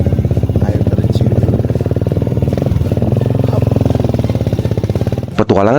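A motorcycle carrying three riders toward a waterfall on the slopes of Gunung Raung in Banyuwangi, East Java, putters along with a steady, throbbing engine rhythm close by, then ends in a brief clatter.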